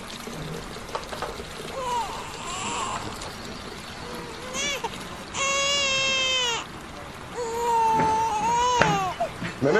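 An infant in a Turkish TV drama scene cries in several sustained wailing bursts, loud and near, with quieter whimpers between them over low background noise.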